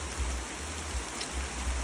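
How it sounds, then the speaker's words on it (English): Steady heavy rain pours down over a land-clearing site in Annotto Bay, Jamaica, a constant dense hiss with no gaps, close and even throughout, with no talking. "the rain has been constant for about 15 minutes now"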